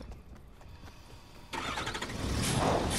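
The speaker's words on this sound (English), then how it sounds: "What is this? A monster truck?" A monster truck engine turns over and roars to life in the Fortnite video game, a loud, steady rumble swelling and holding near after a brief stretch of quieter game sound.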